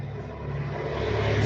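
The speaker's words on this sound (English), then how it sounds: "That was a really rude truck." A loud truck passes outside, a low, steady engine rumble that swells gradually over a second and a half.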